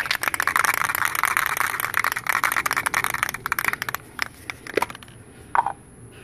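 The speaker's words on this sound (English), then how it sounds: "Give it a good shake." Can of Rust-Oleum flat white spray paint shaken vigorously, the mixing ball rattling in a fast, steady rhythm for about four seconds before slowing to a few scattered clicks, close and loud.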